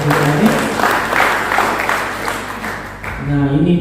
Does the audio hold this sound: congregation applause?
yes